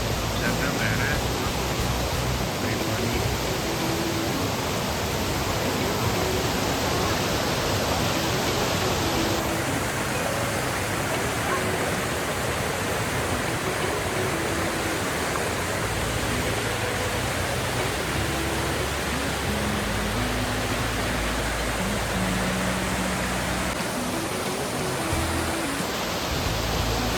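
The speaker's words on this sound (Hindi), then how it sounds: "ये देखिए कैसे झरना बह रहा है।" Tiger Waterfall near Chakrata rushes and roars as a constant broadband wash of falling water, loud and steady, with a shift in tone partway through as the position changes.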